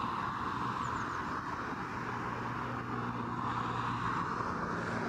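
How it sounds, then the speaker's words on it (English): Virgin Atlantic Boeing 787-9 Dreamliner arriving at Heathrow from Washington, a continuous moderate jet engine drone with a low steady hum, even in level throughout and free of talk. "Next in, also from Washington, as per the earlier arrival, this is Virgin Atlantic Flight 22, 787-9 Dreamliner."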